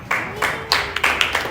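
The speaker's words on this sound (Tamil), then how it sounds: "கைத்தட்டி ஒரு ஆமென் சொல்றேன்" A church congregation clapping during a Tamil Christmas sermon, with several short rhythmic bursts of hand claps rising and falling over about a second and a half, under a preacher's voice.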